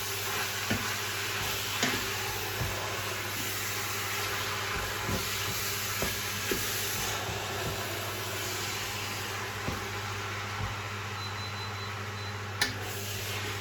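Reduced-fat minced meat browning in a pan for Bolognese, a soft continuous sizzle with occasional clicks and scrapes of stirring over a steady low hum, no voices.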